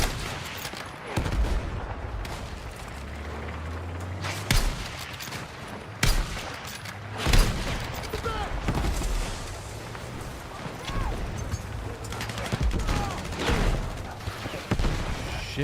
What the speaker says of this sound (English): we're getting artillery or whatever